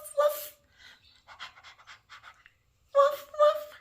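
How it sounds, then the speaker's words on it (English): A toddler sound-button toy plays a recorded dog sound, a quick panting bark burst followed by a series of shorter yips, then two more louder barks near the end, close and clear with no talking. "It sounds like a dog."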